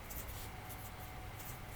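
A pen scratches as notes are written by hand, soft rhythmic scribbling strokes close by, quiet and continuous with brief pauses between words.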